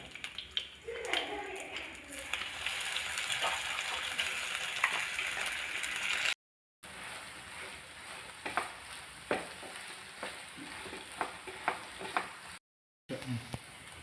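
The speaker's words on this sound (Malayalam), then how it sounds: "ഇതിലേക്ക് അരച്ച് വെച്ചേക്കുന്ന ഉലുവയാണിത് ഇത് നമുക്കൊന്ന് വഴറ്റിയെടുക്കാം" Ground fenugreek sautéing in ghee in a pan, a soft steady sizzle with occasional scraping stirs, two brief drops to silence along the way.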